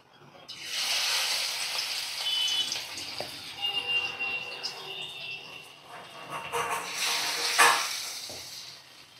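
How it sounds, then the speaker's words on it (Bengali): Coriander leaf pakoras frying in hot oil in a home kitchen, a steady loud sizzle with crackling bursts running nearly the whole time, swelling again near the end. "আজ দেখো সকালবেলা এই ধনে পাতার একটু পকোড়া করব"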